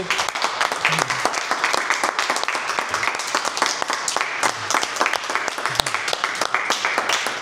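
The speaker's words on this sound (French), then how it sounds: "On peut l'applaudir." An audience claps for young Rosie receiving her first guitar, a dense, steady wash of applause lasting throughout at moderate loudness, with a few voices faintly mixed in.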